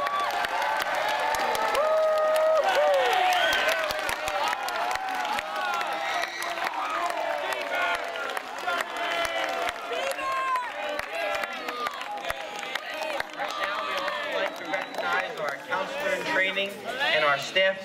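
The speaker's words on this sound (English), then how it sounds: "Let's give the staff a round of applause." A campfire audience at a Resica Falls closing gathering applauds the camp staff, with dense, sustained clapping and cheering voices rising and continuing for the whole stretch.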